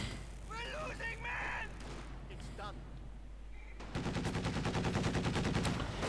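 Voices talk over game noise at first. Then a dense volley of rapid gunfire bursts out from soldiers in the World War II strategy game Company of Heroes 2, rattling on steadily to the end.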